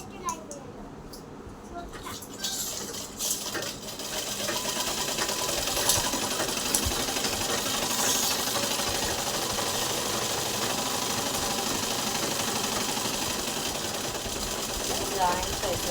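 Sewing machine stitching a lining piece onto a boat neck blouse, a steady close mechanical whir that runs continuously after a brief quieter start, with a voice talking faintly underneath.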